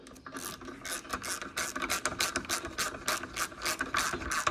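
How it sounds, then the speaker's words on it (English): A bolt drives a heavy-duty threaded insert down into a tapped hole, giving close, rhythmic scraping and grinding rasps that repeat with each turn. "Then you can use the bolt to run down that insert."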